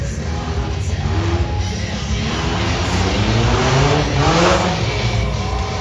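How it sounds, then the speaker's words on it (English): Cars racing around an arena at a monster truck show in Puyallup, Washington, engines revving and surging continuously at mid distance, with faint crowd noise beneath. "Those cars are moving. I like that kicker there."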